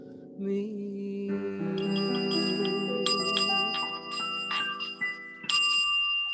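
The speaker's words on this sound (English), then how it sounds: "That's quite a bell you have there. It's my little healing bowl." A small healing bowl is struck and rung like a bell, its clear sustained tones layering and shimmering, with fresh strikes adding bright chimes over the ringing resonance.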